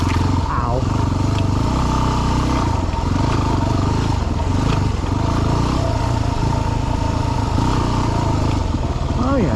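A dirt bike engine roars steadily and loudly as the rider climbs a rocky mountain trail near California Pass and Animas Forks, Colorado, with a muffled voice mixed in at times.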